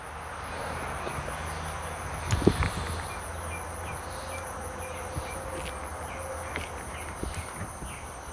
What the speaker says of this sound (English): The bees must smell it, folks, because they are tearing it up.